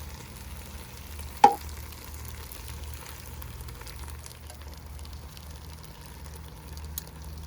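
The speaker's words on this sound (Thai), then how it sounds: "ใส่กระทิที่เหลือทั้งหมด" Coconut milk bubbles quietly in a pot of kaeng khi lek curry with cassia leaves and grilled pork, a soft steady simmering hiss with a single sharp clink early on, faint and without voices.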